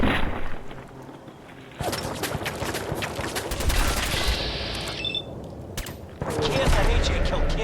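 Bursts of gunfire from combat in Fallout 4, a dense rattle of rapid shots broken by short pauses, loud and close, with a game soundtrack and effects underneath.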